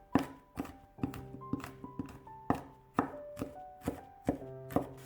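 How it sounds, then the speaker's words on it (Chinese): A knife chops garlic cloves into mince on a cutting board in a quick, steady run of about a dozen crisp knocks, close by, with faint music in the background. "几瓣大蒜先切片，再给它切成蒜末。"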